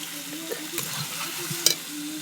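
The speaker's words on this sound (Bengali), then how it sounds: "দিয়ে দেখো মাংসটা চাপিয়ে দিয়েছি।" Meat cooking in a pan on a home stove: a close, steady sizzle and frying hiss with scraping stirs and a few sharp clinks of a spoon against the pan.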